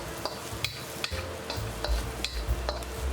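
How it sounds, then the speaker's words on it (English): Green onion whites and jalapenos being tossed in a hot wok, a soft steady sizzle with rhythmic scraping and clinking strokes roughly every half second, close and moderately loud. "add the whites of our green onions and jalapenos. Toss for another 15 seconds-ish."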